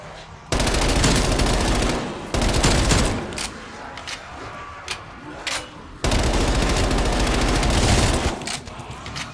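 MP5 submachine gun fired in rapid automatic bursts during a zombie shooter game, loud and close, with several sustained strings of fire separated by brief pauses.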